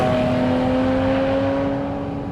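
Porsche GT4 RS engine revs hard and loud with a smooth rising howl, heard close from inside and holding steady before easing slightly at the end.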